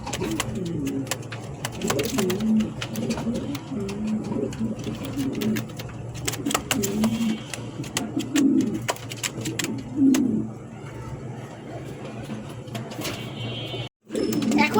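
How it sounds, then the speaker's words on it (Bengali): Giribaz and King pigeons cooing, a continuous low, rolling coo repeating in close succession at moderate loudness, with a brief dropout near the end. "প্রথমে যে পেয়ারটি দেখাচ্ছি এটা হচ্ছে গিরিবাস রানিং পেয়ার"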